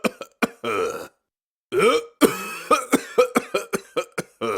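A character in the indie adventure puzzle game Memoranda coughs hard, a long rough hacking fit followed by a rapid burst of sharp, close coughs with only brief pauses.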